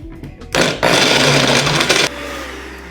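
A blender whirs loudly while mixing chickpea meatball batter with added seasonings, a steady high-pitched roar lasting about a second and a half before cutting off abruptly.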